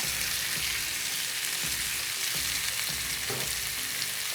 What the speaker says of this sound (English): I'm going to go ahead, stir this all together.